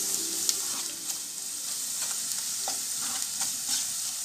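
Ground masala is stirred into onions frying in a pan for egg curry. The steady bright sizzle continues under repeated soft scraping strokes of a spoon, close up, with no voices.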